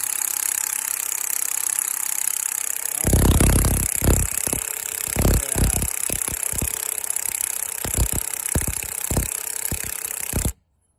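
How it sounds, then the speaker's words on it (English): A power ratchet works a bushing off a blower during a pressure-washer repair, a burst of rapid buzzing followed by a string of short sharp whirring pulses over a steady engine drone, close and loud, then abrupt silence. "I could speed this up if I just stick this ratchet on there. This power ratchet."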